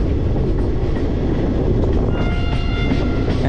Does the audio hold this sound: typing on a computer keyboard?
no